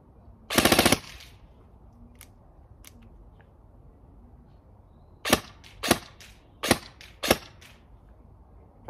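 An ASG Scorpion airsoft electric gun fires close by: a rapid full-auto burst first, then a few sharp single shots, and later a string of crisp, evenly spaced short bursts against a quiet background.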